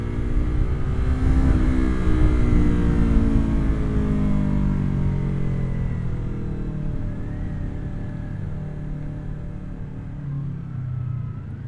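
A sport motorcycle, a Yamaha R3 or Kawasaki Ninja 400, revs hard on a twisty road, its engine climbing loud and near, then easing into a fading, lower drone over several seconds.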